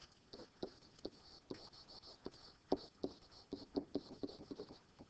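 Marker or chalk writing on a board during a lecture: quiet, close scratching strokes and taps in irregular short bursts, faint overall.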